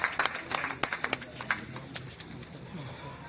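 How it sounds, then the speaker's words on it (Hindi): Scattered applause from an audience at a book launch honouring award recipients, a handful of distinct claps early on that soon fade into a soft, thinning patter at a modest distance. "तालियों से अभिनंदन।"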